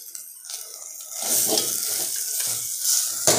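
Potato curry mixture seasoned with turmeric and salt is stirred in a hot pan, giving a steady soft sizzle with scraping spoon strokes that swell after the first second and continue close and even.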